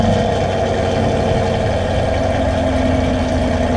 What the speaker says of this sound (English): we're gonna get you a little warm start right here